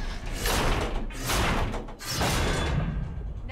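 A heavy axle on a bridge mechanism in the God of War video game is shoved back into place, giving two or three loud scraping, thudding mechanical bursts separated by short pauses.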